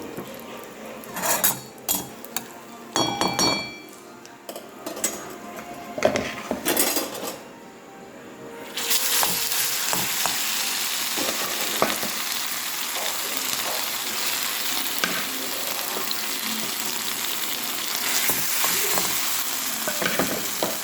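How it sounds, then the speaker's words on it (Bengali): Makha sandesh mixture sweetened with date-palm jaggery and crushed cardamom is stirred in a pan, with scraping, clinking spoon strokes that start sparse and turn into a steady, dense sizzling scrape. "এইভাবে নেড়ে নেড়ে আমি সন্দেশটাকে করে নেব, মাখা সন্দেশটাকে"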